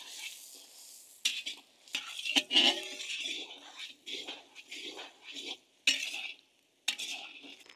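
Onions frying with cumin, asafoetida and curry leaves in a pan while a spoon stirs and scrapes, giving intermittent soft sizzles and metallic scraping bursts separated by brief pauses, fairly close and quiet.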